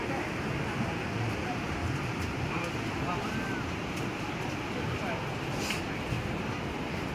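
Rushing river water roars steadily at the confluence of the blue Alaknanda and the white Saraswati at Mana village, a dense continuous wash of noise with no pauses, close and loud.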